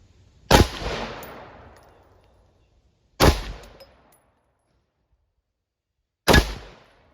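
Three loud 5.56 rifle shots strike an armor plate at slow, even intervals, each a sharp crack with a ringing metallic decay fading over a second, separated by near silence.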